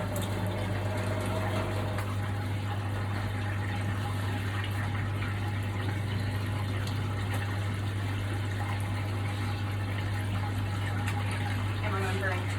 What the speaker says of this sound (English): Quickly wash my hands with some